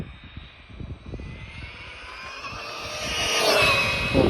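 An RC truck's electric motor at full throttle rises into a high, whining rush that grows louder and brighter toward the end, heard alone without talk.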